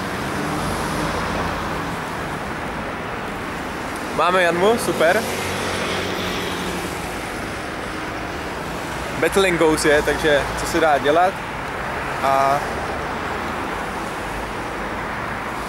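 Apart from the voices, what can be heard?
cars driving past on a road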